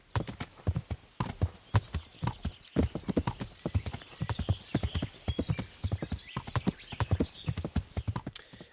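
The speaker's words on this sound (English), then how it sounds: "I'm really enjoying the horse riding in this game." Horse hooves clip-clop steadily during riding in the video game Kingdom Come: Deliverance, in a continuous rhythmic trot that is fairly quiet and plays alone without any talk.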